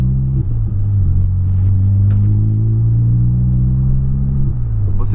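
A 2008 Volkswagen Polo car drives along with a steady, loud low engine rumble and road drone from inside the cabin, holding an even tone throughout and easing slightly near the end, with no talk.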